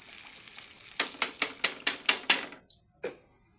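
A spoon knocks rhythmically against a pan while stirring sautéed mixed vegetables (ginisang gulay), seven sharp evenly spaced clacks over a faint sizzle, then a pause and two more scattered taps, close and clear.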